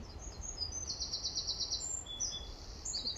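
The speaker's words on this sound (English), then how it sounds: "Some of the birds outside." Birds singing outdoors on a quiet common beside a railway line used by freight trains, a few repeated high chirping phrases rising over steady low rumbling wind-like background noise.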